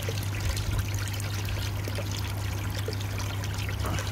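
Dirty water drained from a koi pond filter pours steadily into a bucket outdoors, a continuous close splashing trickle with no talk.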